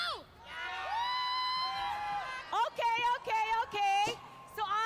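Esports fans at a tournament match cheer and scream loudly, with high whoops and shouted calls rising and falling in bursts, a dense crowd roar close at hand.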